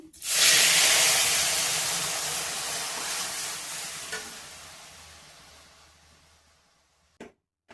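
Aam dal, a mango and lentil dish, hitting a hot pan and being stirred, a loud burst of hissing sizzle that slowly fades over several seconds, ending with a couple of sharp clatters.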